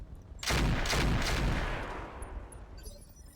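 Mech weapons firing in the RogueTech mod of the BattleTech video game, a sudden loud volley of several rapid blasts that merges into a rumbling roar and slowly fades.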